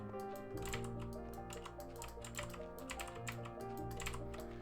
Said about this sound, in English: I could listen to a mechanical keyboard click all day and it wouldn't bother me